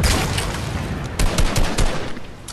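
Rapid video game gunfire crackles in dense bursts throughout, with louder sharp volleys near the end as players shoot each other in a shield-based battle royale match.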